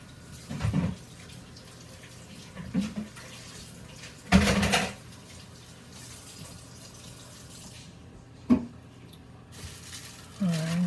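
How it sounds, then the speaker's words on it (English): Kitchen tap water splashing in short bursts as hands are washed while frying pork loin chops, several brief gushes separated by quiet pauses, fairly close and moderate in level. "Let me wash my hands again."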